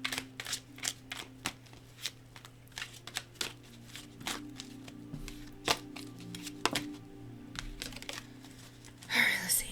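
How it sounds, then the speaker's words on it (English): A deck of tarot cards shuffled by hand in repeated soft riffling and slapping bursts, with quiet talk and a low steady background hum underneath. "I'm gonna shuffle this up some more."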